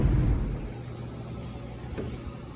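Car driving on the road to work, heard from inside as a steady low engine and road rumble with a faint whoosh that eases slightly after the first half second.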